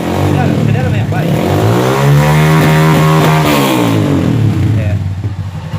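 A Honda Fan 160 motorcycle engine with a misfire revs hard and loud up close, its pitch sweeping up and down with a rough, uneven stutter, while a voice speaks over it.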